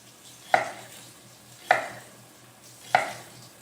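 A knife chops through onions on a kitchen board in three sharp, close strikes spaced about a second apart, each quickly fading, with a faint low hum underneath and no talking.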